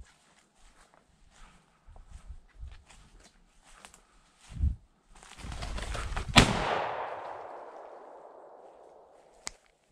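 One sharp, loud gunshot from a ruffed grouse hunt on public land in southern Ontario cracks out and rings away slowly, after soft footsteps and rustling through the brush. A faint pop follows near the end.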